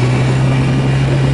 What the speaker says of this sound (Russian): И мы можем спокойненько запустить моторчик.